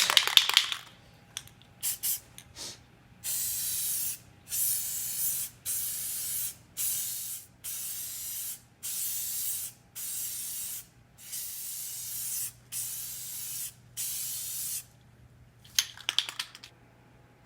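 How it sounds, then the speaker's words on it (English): Rust-Oleum high heat spray paint hissing from a can onto an intake plenum, about a dozen even bursts of roughly a second each separated by short pauses, close and crisp, with a few clicks at the start and end. "What I'm using here is this Rust-Oleum high heat paint for 2000 degrees"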